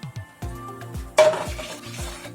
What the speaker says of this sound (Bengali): এরপর এই তেলের মধ্যে আমরা দিয়ে দেবো কালো জিরে আর শুকনো লঙ্কাটা